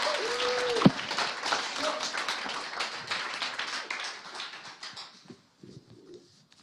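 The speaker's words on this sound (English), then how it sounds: "Give them a round of applause, everyone" Audience applause at a teen gala, dense scattered clapping that carries for about five seconds, then fades to a few sparse claps near the end.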